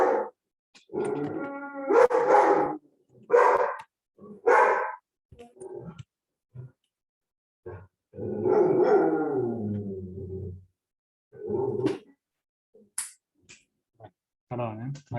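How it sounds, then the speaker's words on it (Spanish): A female dog barks repeatedly in bursts near the microphone during an online class, the sharp barks alternating with a person speaking and quiet gaps. "parece que ya se calmó la perra"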